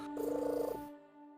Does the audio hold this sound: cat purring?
yes